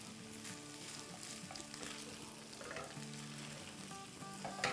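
Eggs frying in a preheated pan, a steady crackling sizzle running throughout at close range, with faint background music tones and occasional utensil clicks, no talking.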